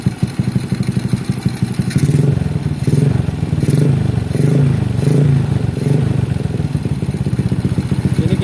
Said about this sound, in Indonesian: Ini kita biarkan dulu untuk kita panasin mesin ya.